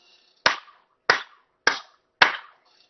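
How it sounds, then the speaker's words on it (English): Four sharp hand claps spaced about half a second apart, close and loud, each with a short room tail, with near silence between them. "Was I clapping myself up right now?"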